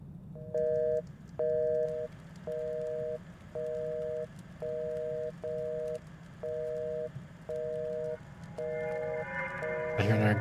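A telephone rings in the horror game Paranormal Night Shift, giving a steady run of paired electronic tones in regular bursts about once a second over a low background hum, with a brighter burst at the very end.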